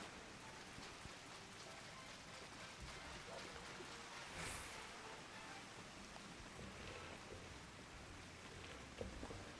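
Steady rain falls across the scene in Final Fantasy XIV, a dense, even hiss of raindrops on surfaces that continues without a break, with one brighter swell of spray near the middle and no voice over it.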